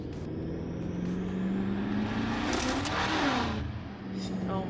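A turbocharged BMW M5 engine revs hard from inside the cabin, its pitch climbing then falling with turbo whine and a rushing roar, while people talk excitedly over it.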